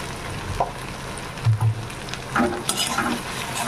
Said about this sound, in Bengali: এবার মশলাটাকে একটু ভালো করে কষিয়ে নেব